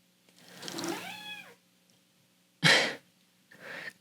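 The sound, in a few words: cat meowing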